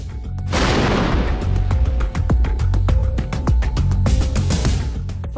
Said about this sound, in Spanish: Se ha liberado muchísima energía en ambas explosiones.